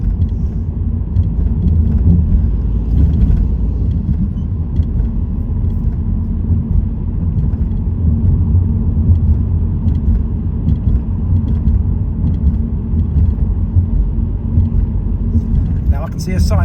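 A car cruising along a rough, poorly surfaced dual carriageway, giving a steady low road rumble and engine drone throughout while a driver talks over it.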